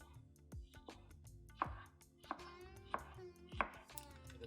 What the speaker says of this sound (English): Slice this into fine pieces.